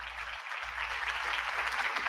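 An audience claps steadily to welcome a guest onto a live show, a brief, even burst of applause with no voices over it.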